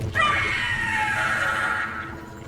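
A monstrous creature screams in Dragon Age: The Veilguard, one sustained, loud, rasping shriek lasting a couple of seconds before trailing off, heard alone without speech.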